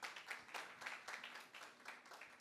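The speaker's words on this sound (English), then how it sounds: "Give him a big round of applause," Steady crowd applause with many hands clapping in a dense, continuous wash, moderately loud and sustained throughout, with no voices, at a biohacker facility launch event.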